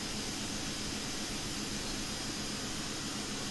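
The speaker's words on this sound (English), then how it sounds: "That is the bass sound from the in-game Cessna Citation CJ4." The in-game engines of a Cessna Citation CJ4 business jet in a flight simulator give a steady, broadband jet roar with a deep bass rumble, heard alone and unchanging throughout.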